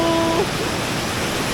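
Rushing water from Palasanon waterfall near a cave entrance fills the air with a continuous broadband roar, and a brief voice sounds at the very start.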